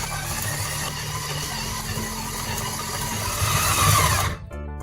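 A stand mixer kneading pizza dough of flour, water, salt and yeast at second speed: a steady, close motor whir with a rhythmic churning texture that builds slightly, then cuts off near the end, with no speech.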